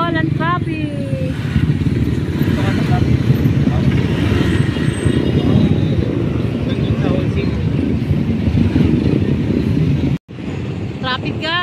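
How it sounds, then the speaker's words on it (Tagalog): Busy road traffic at a roundabout in Taytay, Rizal, at dusk, with motorcycles and cars streaming past in a steady dense rumble, horns beeping now and then, and voices talking over it. "Traffic, guys."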